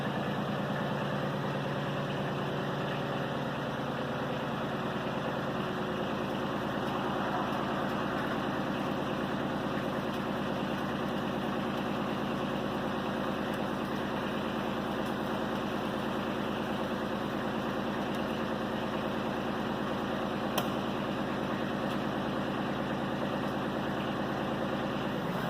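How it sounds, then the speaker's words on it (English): Tractor engine idling steadily while pushing a metal sleeve onto a pole barn post, a continuous low, even drone with a constant hum throughout and no talking. "we've got the tractor backed up to the column, and we've got the driver engaged with the sleeve"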